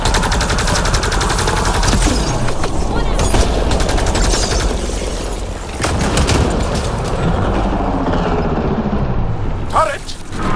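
Turret gunfire in Mass Effect Andromeda rattles in dense, rapid bursts with mechanical clanking and ratcheting, loud and close throughout, broken by brief pauses and occasional sharp impacts.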